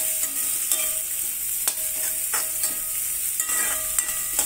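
Onions sauté in a pan for fish curry with a constant soft sizzle, and a utensil scrapes and clinks against the pan in quick, irregular strokes as they are stirred.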